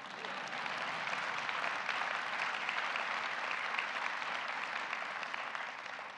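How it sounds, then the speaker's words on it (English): An audience applauds at a speech by President Obama on energy in Colorado, a dense, sustained roar of clapping that stays loud and even throughout. "Yeah, that's worth clapping."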